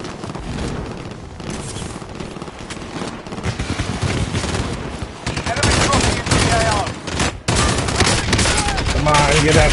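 Dense, continuous automatic gunfire and explosions from the video game Warzone, loud and sustained throughout, with a voice talking faintly beneath the shooting.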